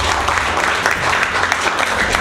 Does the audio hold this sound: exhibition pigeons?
no